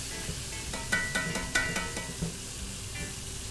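Chicken fried steak sizzling in a hot pan just after being flipped: a steady, close frying hiss with a few light clinks of a utensil near the start.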